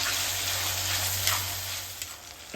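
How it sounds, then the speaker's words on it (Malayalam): Tomatoes frying in a pan for vegetable biryani masala, a steady close hiss of sizzling oil running throughout with a few faint scrapes of stirring, no voices. "ഇനി നമുക്ക് തക്കാളി ഇട്ടിട്ട് ഇത് മെൽട്ടാവണ വരെ ഇളക്കിക്കൊണ്ടിരിക്കാം"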